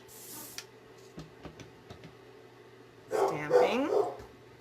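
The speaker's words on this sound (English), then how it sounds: "Pardon my dog, he's barking at somebody on the street" A dog barks loudly at someone on the street through an open door, a burst of several close, excited barks and yips after a few soft thumps of stamping.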